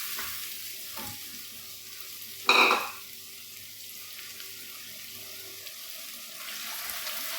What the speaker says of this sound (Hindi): अच्छी तरह भून लेना 1 से 2 मिनट